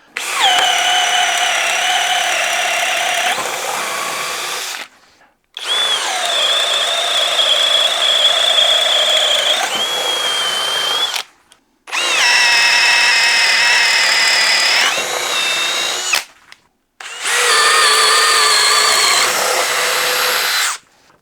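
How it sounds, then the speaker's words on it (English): A DeWALT drill bores a hole with a 3/4 inch spider boring bit: four long, loud bursts of steady motor whine and cutting noise, separated by short silent pauses. "The power on the DeWALT is just plain different. This is a 3/4 inch spider bit,"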